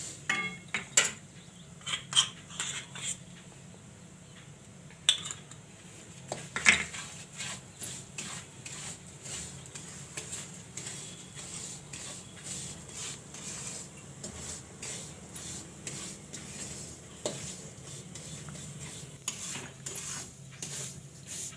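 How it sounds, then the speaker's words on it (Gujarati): Semolina roasting in ghee in a pan for milk powder barfi, with repeated close metal scrapes and clinks of a spoon stirring against the pan over a low steady background, busier in the opening seconds. "એકદમ સરસ રવાને શેકી લેવાનો છે, દાણા દાણા જુદા થઈ જાય એ પ્રમાણે"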